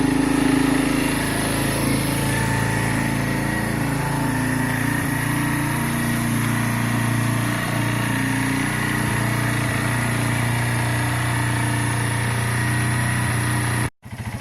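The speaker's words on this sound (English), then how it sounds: "We'll give it a minute to warm up, and then we'll adjust the idle properly." A carbureted 125cc Benelli Keeway motorcycle engine idles steadily while warming up, an even, close buzzing drone that holds almost unchanged before briefly cutting out near the end.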